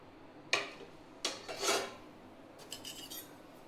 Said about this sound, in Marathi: तुपामध्ये रवा भाजून घ्यायचा आहे। छान असा भाजून घ्यायचा आहे।